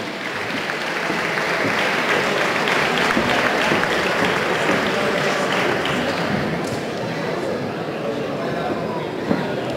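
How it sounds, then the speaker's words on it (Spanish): Sustained audience applause at a fitness championship, a loud dense wash of clapping from a large crowd filling the whole stretch without letup. "Fuerte el aplauso para él."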